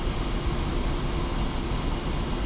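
A jet in the Digital Combat Simulator game taxis toward the runway, its engine giving a steady, broadband rumbling drone that holds even throughout with no voices.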